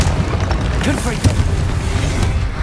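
The Confringo explosive spell in Hogwarts Legacy lands as a loud, deep boom with crackling blast debris, set within dense, continuous rumbling battle noise and a sharp burst partway through.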